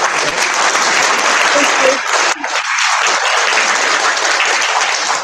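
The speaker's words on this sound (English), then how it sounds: "So we give Leanne a round of applause" An audience gives a round of applause after a presentation, with steady, full clapping from many hands that continues for several seconds with a brief dip partway through.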